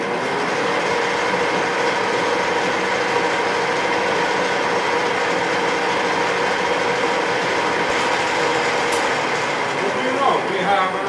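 Metal is machined with light 0.3 millimeter cuts, giving a steady, loud mechanical whirring and grinding that runs without pause from start to finish.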